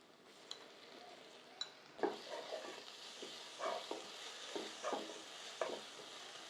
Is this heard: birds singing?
no